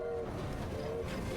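Train rumble in Assassin's Creed Syndicate, a steady loud mechanical roar with low rolling noise and a sustained whistle-like tone running through the whole moment.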